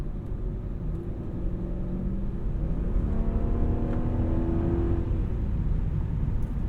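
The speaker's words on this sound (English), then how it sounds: "that engine feels really athletic when you get it all revved up" A 2003 Audi S8 engine revs up inside the car, its rumbling drone rising steadily in pitch to a peak around the middle before easing off, with no talking.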